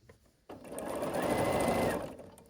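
A sewing machine stitches the seams of a quilt block, a steady whirring motor run of about a second and a half after a brief pause, close and alone.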